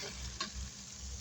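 Butter frying in a pan gives off a low, steady sizzle that stays quiet and even, broken once by a brief scrape of stirring, with no voices.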